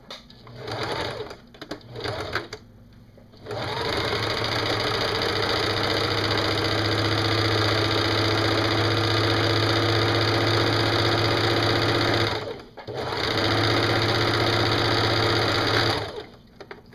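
A sewing machine runs a long steady stitching burst along a T-shirt sleeve seam, pausing once briefly before resuming, preceded by a few short starts, close and continuous.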